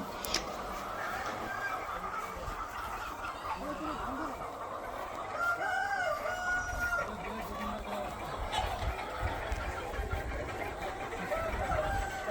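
Chickens clucking and calling at a livestock research farm that also keeps ducks, cattle, goats and sheep, in a steady, busy cluster of bird sounds over constant outdoor background noise with faint voices.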